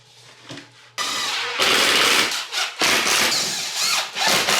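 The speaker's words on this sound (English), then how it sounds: "And then we'll cut our piece of rock." A saw cuts through a piece of drywall, a drywall patch being trimmed to fit; a quiet scrape first, then about three seconds of loud, steady, close rasping strokes with brief dips between them, and no voices.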